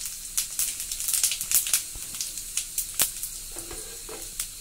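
Cumin seeds sizzling in hot oil in a pan, a bright continuous crackling hiss with frequent sharp pops, close and steady.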